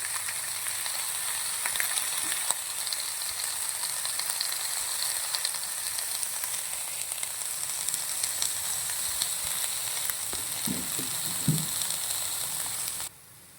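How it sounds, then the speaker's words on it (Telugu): Chopped cabbage, tomato, curry leaves and garlic fry in hot oil with a constant close, crackling sizzle. A few stirring knocks come near the end before the sound cuts off. "గార్లిక్ అన్నీ వేసుకొని కొంచెం ఫ్రై అయ్యేంత వరకు వేయించుకోవాలి"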